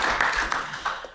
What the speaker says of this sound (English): Can we like maybe get a round of applause for that or something?